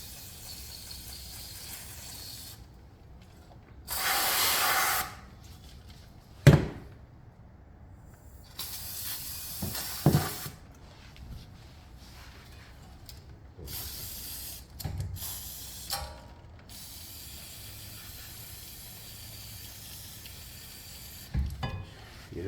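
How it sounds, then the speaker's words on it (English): Brake cleaner sprayed onto the rear brakes of a 2015 Mazda 3 during a pad change, in several sharp hissing bursts of varying length separated by quiet pauses and a few clanks, heard close up. "I'm gonna use a brake cleaner to just clean this out"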